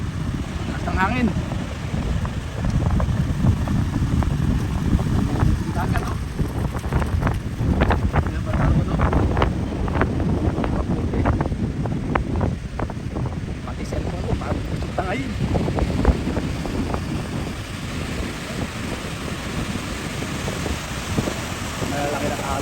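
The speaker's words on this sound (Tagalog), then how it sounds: "Lamig. Lakas ng hangin." Strong cold wind buffeting the microphone on the shore at Imperial Beach, San Diego, a continuous loud roar with gusts and surf underneath, someone speaking intermittently over it.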